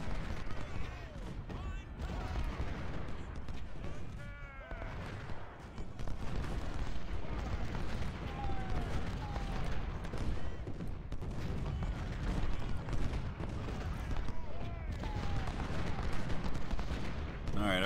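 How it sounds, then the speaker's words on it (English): Artillery and musket fire rumble continuously through a Civil War battle in Ultimate General: Civil War, with booming cannon blasts and crackling volleys layered over a dense battlefield din and occasional voices. "Artillery is just killing me up there."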